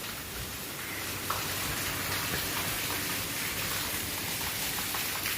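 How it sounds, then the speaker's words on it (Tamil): Steady rain falls during a bus journey from Kumily to Kannur, a dense, even hiss of water that holds at constant strength with no voices. "இங்கெல்லாம் நல்ல மழை பெஞ்சிருக்கு."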